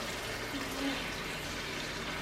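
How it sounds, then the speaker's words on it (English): Pasta water poured into a pan of guanciale drippings and black pepper for pasta alla gricia: a soft, steady liquid pour and sizzle heard faintly and close, with no talk. "now some of that pasta water"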